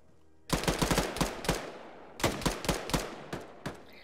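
Automatic gunfire rings out in the military video game Squad, loud and close. Two quick bursts of sharp rapid shots are separated by a short pause, and a few single shots follow.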